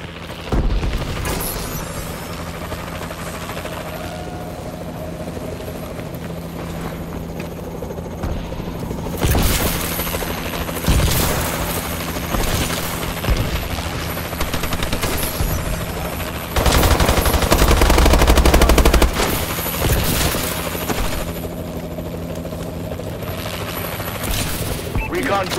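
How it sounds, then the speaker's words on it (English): Gunship helicopter in a video game firing its guns, with dense bursts of gunfire and booming blasts over a steady rotor drone, loudest in a couple of heavy barrages. "Piloting gunship ready."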